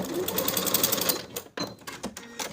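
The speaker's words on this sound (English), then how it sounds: "Then we can baste the pleat." Sewing machine basting a pleat in fabric, a fast rhythmic mechanical clatter of stitching for over a second, then short stop-start bursts close by.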